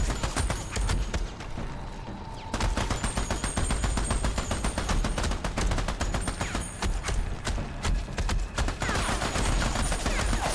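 Dense, continuous gunfire from the video game Army of Two, bursts and single shots overlapping almost without pause for about ten seconds, loud and close, with a short lull near the start.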